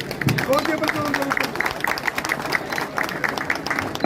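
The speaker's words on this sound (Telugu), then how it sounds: "చప్పట్లు కొట్టాలండి" An audience claps at a cooperative bank swearing-in ceremony, a sustained burst of scattered applause with a voice speaking over the start.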